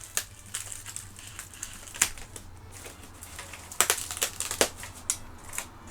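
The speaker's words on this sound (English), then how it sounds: "we'll get some scissors on the case" Scissors cut and crunch through the plastic packaging case of an Amstrad CPC 464 computer, with sharp irregular snips and crinkling bursts up close, clustered in quick runs between short pauses.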